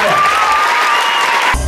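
Crowd at a hypnosis stage show applauding a volunteer, a loud, steady wash of clapping with a tonal hum running through it and a sharp cut near the end.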